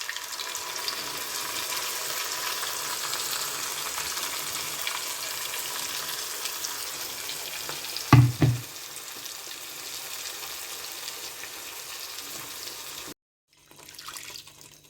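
Curry leaves and dry red chillies sizzle steadily in hot oil for a tempering in a pan for turkey berry gojju, with a brief louder clatter partway through before the sound cuts out briefly near the end.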